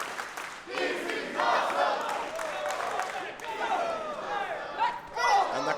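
A wrestling crowd at an RPW Queen of the Castle match chants and cheers in swelling rhythmic waves, loud and enthusiastic, with voices overlapping across the arena.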